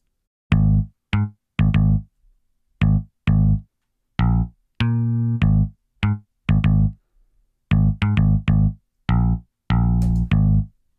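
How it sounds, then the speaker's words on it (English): A bouncy, buzzy synth bass riff plays short repeated notes in a steady rhythm with gaps between them. It is loud and close, with no voices. "So it's a really cheesy bass sound and cheesy bass line"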